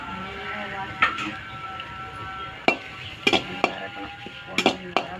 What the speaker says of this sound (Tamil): இது மாதிரி வேப்பம்பூ வறுத்து எடுத்துட்டு இதுலேயே கொஞ்சம் கருவேப்பிலையும் போட்டுக்கணும்